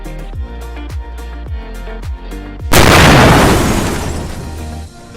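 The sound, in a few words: car explosion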